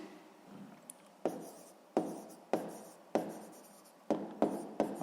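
Pen strokes scratch across paper as math is worked out by hand, a close, quiet run of short sharp scribbles coming one after another at an uneven pace, with no voice.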